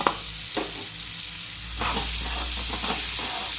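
Boiled chickpeas hit a hot pan and sizzle loudly, with a steady frying hiss broken by a few scraping stirs, close up and with no talk.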